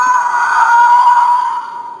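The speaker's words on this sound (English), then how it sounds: "that's what it sounds when the TIE Fighter is swooping past you" A Star Wars TIE Fighter toy plays its swooping-past sound effect, a loud electronic whooshing roar that holds steady for about two seconds and then fades slightly at the end, with no talking.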